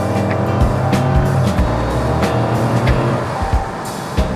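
A Dodge Challenger R/T engine pulls hard under full throttle from inside the cabin, a loud continuous roar with gear changes and surging revs.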